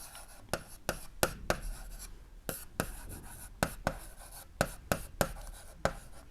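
Marker or chalk writing on a board during a biology lesson, sharp tapping strokes and scratchy scribbles in an uneven rhythm, close and clear with no talk over them.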